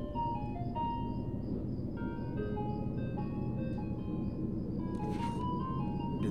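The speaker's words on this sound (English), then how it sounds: "Dude, that's the ice cream truck." An ice cream truck's jingle plays on and on, its bright melodic notes carrying over a steady low rumble of traffic or engine noise.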